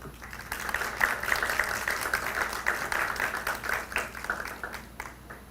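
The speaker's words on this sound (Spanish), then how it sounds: "a quien le damos un voto de aplausos" An audience at a constitutional law conference in Peru gives a guest of honour, the vice-president of the Constitutional Tribunal, a round of applause. The clapping is soft and distant, steady with scattered sharper claps.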